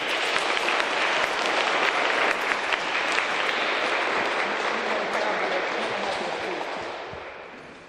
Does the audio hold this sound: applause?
yes